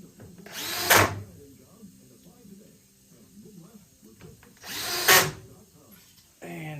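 Power drill driving screws into soft wood, two loud whirring bursts about four seconds apart, with quieter handling and shop noise between and a voice talking briefly.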